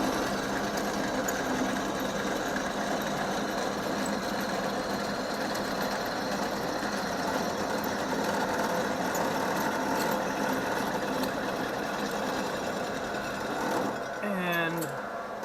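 A milling machine cuts lift engine mounts under hand feed, making a steady, fairly loud grinding whir with a constant mechanical hum that continues unbroken, ending with a brief higher squeal near the end.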